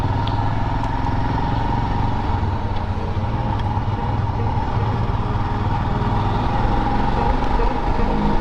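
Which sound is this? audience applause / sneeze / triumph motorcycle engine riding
triumph motorcycle engine riding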